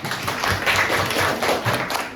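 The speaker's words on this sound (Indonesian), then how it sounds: "Oke, selanjutnya tepuk tangan dulu ya." A classroom group claps hands during a practice teaching session, a steady patter of overlapping claps lasting a couple of seconds with no talk over it.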